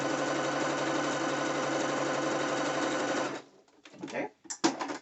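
A sewing machine stitches down a slippery bikini liner on a half-lined thong bikini in one loud, steady run of about three seconds, then stops. Someone speaks afterward.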